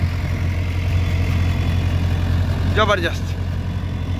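A Sonalika DI 750 III tractor pulls a leveller across a farm field, its diesel engine a constant, close, heavy low drone throughout. A man briefly exclaims over it near the end.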